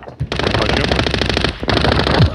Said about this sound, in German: Schüsse kommen. Irgendwo von dort.